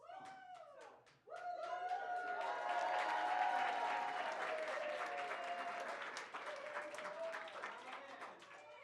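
An audience claps together during an improv counting game, a sustained wash of applause that starts abruptly after a brief voice and holds steady.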